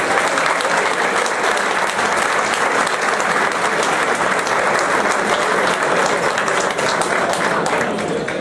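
Loud, dense applause at a youth football medal ceremony, a constant roar of many hands clapping together that holds steady for the whole stretch with no pause.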